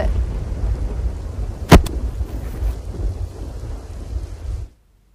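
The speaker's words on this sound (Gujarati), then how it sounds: "અબડાસામાં મુશળધાર વરસાદ જોવા મળી રહ્યો છે" Heavy torrential rain pours down in Abdasa, Kutch, Gujarat, a steady loud roar broken by a sharp thunder crack near the middle, running alone before cutting off abruptly near the end.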